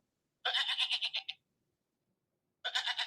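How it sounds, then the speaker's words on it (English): Goat-bleat phone ringtone going off, two bursts of rapid wavering bleats separated by a pause of silence, loud and close with no talk over it. "Yes, my ringtone is a goat."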